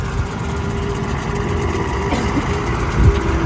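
A lorry loaded with coal idles and reverses for loading, a steady low engine rumble with a slight rise toward the end.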